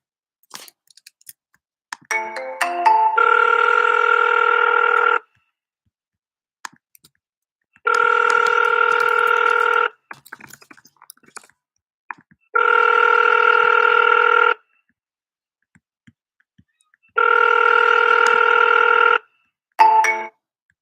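A telephone rings through the earpiece on an outgoing cold call, four long electronic ring bursts with silent gaps between them, loud and alone, followed by a brief cut-off.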